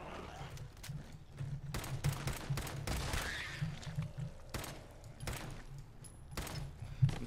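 Gunshots from hip firing in the video game Fallout 4 crack out in a run of sharp, irregular bursts over a low rumbling background.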